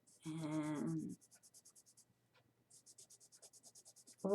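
A single pencil shades lightly on paper in quick, regular back-and-forth strokes. The strokes are soft and close, pause briefly and then resume. Someone speaks briefly before them and a voice starts again at the end.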